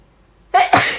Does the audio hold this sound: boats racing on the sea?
no